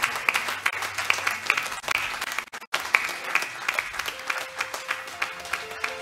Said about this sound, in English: Let us keep clapping.